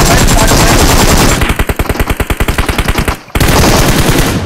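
Rapid automatic gunfire from a Groza rifle in PUBG Mobile, loud and close, with sustained bursts broken into distinct rapid shots before a brief pause and another dense burst.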